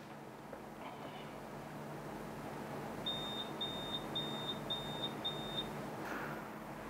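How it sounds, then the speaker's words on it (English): A UV crosslinker gives five short, evenly spaced high beeps at the end of its exposure cycle, clear and close over a faint background hum. "The unit will automatically stop at the end of exposure cycle and will beep 5 times"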